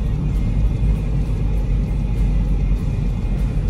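A car heads out on a trip along a mountain road near Kofu, Japan, its low engine and road rumble droning steadily and closely with no voices.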